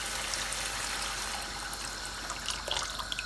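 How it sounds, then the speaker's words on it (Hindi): Water poured into a cooking masala gravy for a besan gatta curry, a steady hissing, trickling wash that runs continuously with a few small splashy bursts near the end, with no talk. "अब ये जो पानी है ना, इसको हमने ऐड कर देना है"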